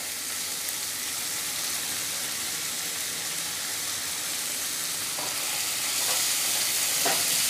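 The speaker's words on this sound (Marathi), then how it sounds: "आता हे आलं, मिरची, लसूण जी आपण घेतली होती त्याचं मी वाटून पेस्ट केलेली आहे ती घालूया" Ginger, green chilli and garlic paste sizzles and fries in a hot pan for quinoa biryani, a steady close hiss with a few soft stirring clinks near the end and no voices.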